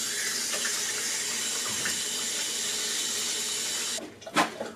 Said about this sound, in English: Wash my hands real quick.